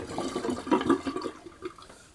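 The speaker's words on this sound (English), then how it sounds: "I'm going to empty my sink." Water drains from an emptied bathroom sink during a wet shave, a gurgling liquid rush that peaks midway and then trails off, heard alone and close.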